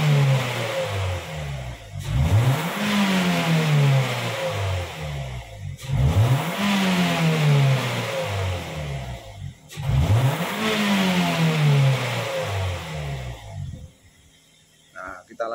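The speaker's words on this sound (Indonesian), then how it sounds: "Separuh gas lagi. RPM standar dari sekitar 900 turun ke 600." A Toyota Rush car engine revs at half throttle three times, each rise swelling and then settling back to a steady idle, loud and close, before dropping near silent at the end.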